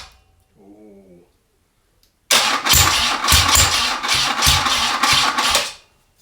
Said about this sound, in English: Ignition on. Good idea, actually. Start motor.